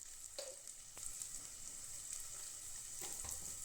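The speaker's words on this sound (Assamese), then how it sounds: "এইখিনি মই লৰাই লৰাই ভাজি থাকিলোঁ।" Onion, garlic and chilli fry in a pan with salt and turmeric while being stirred, for a methi dish; a quiet, continuous sizzle with a few soft scraping stirs and no voices.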